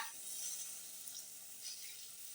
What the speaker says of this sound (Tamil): இப்ப இந்த புளி தண்ணியை உள்ள சேர்த்துக்கோங்க